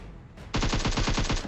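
Automatic gunfire in a PUBG match, a rapid, evenly spaced burst of about a dozen loud shots following a brief quiet moment, with no voices.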